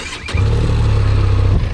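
A Benelli TRK 502 motorcycle engine fires up close by, settling into a steady, loud low-pitched idle throb for over a second before dropping off.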